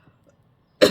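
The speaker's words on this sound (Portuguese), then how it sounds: "tossindo o tempo todo." One short, harsh cough from a woman in a warm room, close to the microphone and loud, following a near-silent pause with only faint breathy sounds before it.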